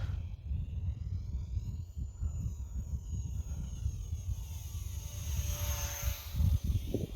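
An Eachine T-28 RC model airplane flies steadily overhead, its small electric motor droning with a thin high whine that rises and falls as it makes passes, while wind buffets the microphone with low rumbling throughout.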